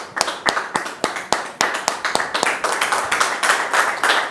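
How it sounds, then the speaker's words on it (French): Rhythmic group clapping for a male guest being welcomed, sharp claps in a steady beat, close and fairly loud, with a few scattered claps filling in between the beats. "que nous recevons sous vos applaudissements maintenant"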